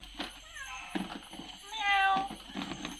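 A large adopted cat meows once, a clear drawn-out mew near the middle, amid soft indoor rustling and faint voices nearby.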